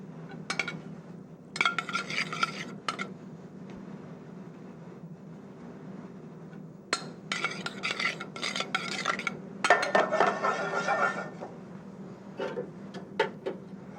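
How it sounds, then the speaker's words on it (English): Rice pours and is stirred into boiling chicken stock in a metal pot, with scraping spoon strokes and light clinks arriving in irregular bursts over a steady low simmer, close and fairly quiet. "The rices go into boiling chicken stock."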